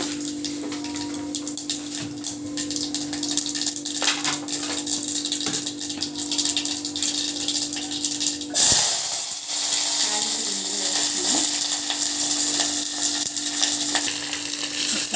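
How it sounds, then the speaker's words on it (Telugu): Hot oil sizzles and crackles steadily throughout, with a sudden louder burst partway as tempering spices are added, then continued frying hiss. "ఆయిల్ వేడెక్కింది, పోపు దినుసులు వేస్తాను."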